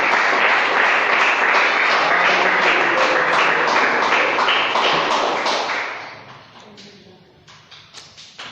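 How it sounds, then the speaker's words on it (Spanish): A church congregation claps in loud, dense applause for nearly six seconds, then the clapping thins and fades to scattered claps. "Denle un aplauso al nombre de Jesús de Nazaret."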